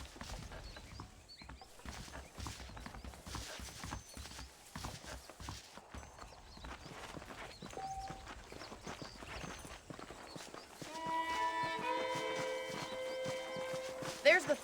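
A horse's hooves clip-clop at a steady walking pace in the Western game Red Dead Redemption, carried under near-continuous spoken dialogue, with a sustained tonal musical swell rising near the end.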